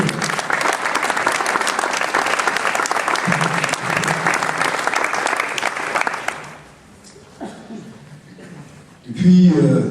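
Audience applause at a French municipal campaign event in Yutz, announcing a candidacy for mayor: loud sustained clapping from a crowd for about six seconds, then fading into scattered sounds and a brief voice near the end.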